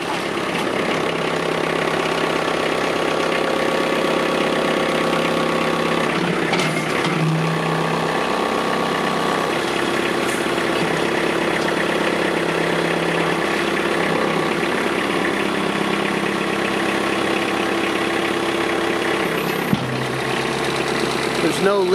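A diesel engine runs at a steady, loud idle close by for a long stretch, a continuous low rumble with a slight knocking texture and no obvious changes in speed.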